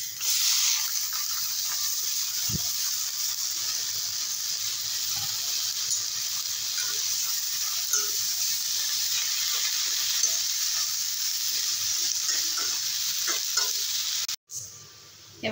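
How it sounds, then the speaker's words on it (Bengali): Water spinach (kalmi shak) frying in a wok: a loud, unbroken hissing sizzle with faint stirring scrapes underneath, close by and steady for the whole span before a sudden short dropout at the end. "এবারে এই কড়াতেই কলমি শাকগুলো দিয়ে দেবো।"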